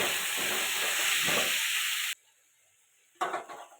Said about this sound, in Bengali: আর একটু ভালো করে কষাতে হবে